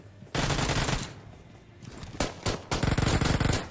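Bursts of automatic gunfire in a mobile battle-royale shooter game, loud rapid volleys with a pause midway, then a longer sustained rattling burst toward the end.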